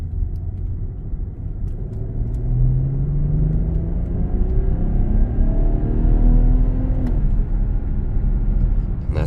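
BMW 740i xDrive sedan accelerating in sport mode at around 80% throttle, a steady engine drone rising in pitch over several seconds, heard from inside the cabin with road rumble underneath.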